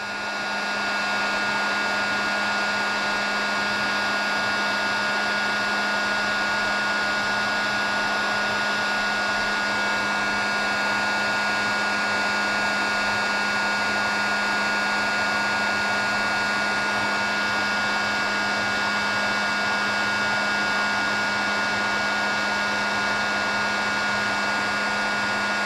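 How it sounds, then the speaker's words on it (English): A heat gun blasts hot air onto a spinnerbait weight, a constant loud whooshing fan drone with a steady motor hum that holds unchanged throughout, with no voices. "I'm gonna get this heat gun and I'm gonna turn this thing on and we're gonna really heat this up, right?"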